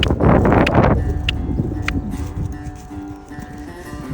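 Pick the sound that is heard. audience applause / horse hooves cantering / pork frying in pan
horse hooves cantering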